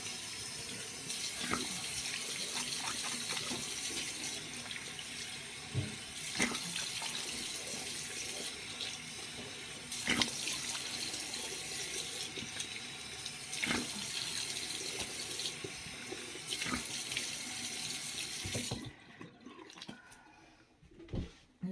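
Tap water runs steadily into a sink while face cleanser is rinsed off, with splashes and hand movements through the flow, close, until it stops near the end.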